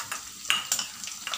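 Whole spices tempering in hot oil in a pan for a hotel-style Bombay besan chutney, a soft continuous sizzle with a few sharper crackles and stirring scrapes, close and moderately quiet, no talking.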